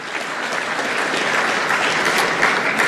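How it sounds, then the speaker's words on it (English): Steady, dense applause from a large audience at a health sovereignty summit in Africa, sustained and fairly loud throughout without pause. "Let's applaud her one more time."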